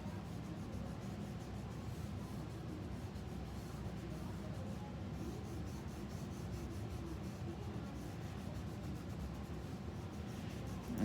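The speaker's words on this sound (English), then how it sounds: "I'm going to use my eraser to pull out" Pencil eraser rubbing over a graphite still-life drawing of a pumpkin, a soft continuous scrubbing close by, steady and low in level throughout.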